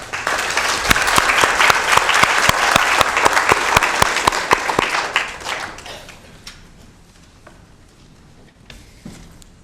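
Audience applause fills a commission meeting room, a dense steady clapping lasting about six seconds before thinning out into scattered claps and fading, with a few isolated claps near the end.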